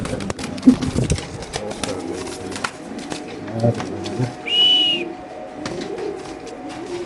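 Racing pigeons, including a male racer, give soft, scattered calls among faint rustling and knocks, with one clearer higher call near the end and low voices murmuring in the background.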